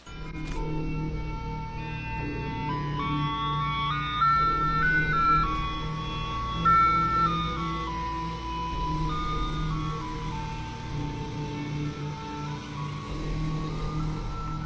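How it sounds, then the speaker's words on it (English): An ice cream truck plays its tinkling melodic jingle outside at a campsite, a steady looping tune heard alone over a low engine hum. "when you hear these sounds, you know that's an ice cream truck out there"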